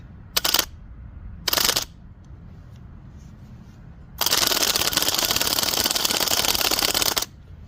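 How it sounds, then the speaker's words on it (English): Starter motor from a Troy-Bilt Bronco lawn tractor spinning on a bench test, its Bendix gear not engaging: two short whirring bursts, then a steady, loud, close whir lasting about three seconds before cutting off. "the starter motor seems to be working, but it doesn't seem like the Bendix gear is coming out to engage with the flywheel"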